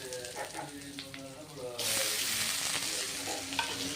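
Chopped onions hit hot oil with popped mustard seeds, and a continuous sizzle swells louder partway through, close and steady with faint stirring.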